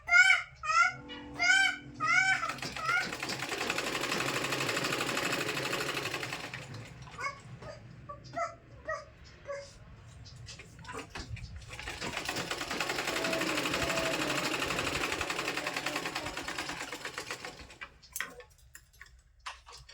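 A sewing machine stitches a blouse in two long, steady, rapid runs of several seconds each, close and clear, separated by a pause with handling clicks, with someone speaking briefly at the start.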